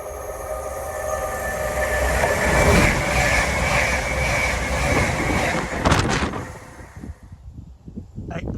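A train rolls through Tuxford station, loud and close with a steady rumble and rising metallic rail noise that peaks midway, then fades to quieter clatter near the end.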